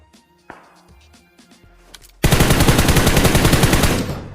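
Sustained automatic gunfire from a PUBG firefight erupts loudly after a couple of quieter scattered shots, a dense rapid burst rattling on without pause for about two seconds before tapering slightly.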